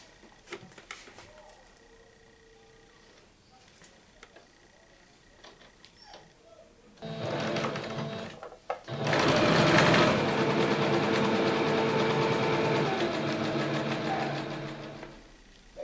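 A sewing machine stitches trouser darts, crotch seams and side seams for a flared jumpsuit, quiet and intermittent at first, then a loud steady run of continuous stitching from about seven seconds onward.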